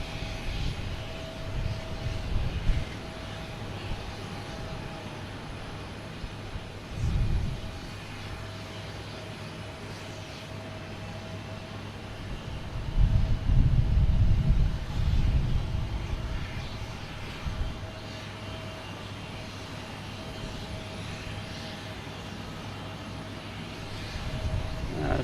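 An airliner in special Allegheny livery at Boston Logan Airport makes a distant, faint engine drone that swells louder for a few seconds midway, then fades back under a low, steady hum.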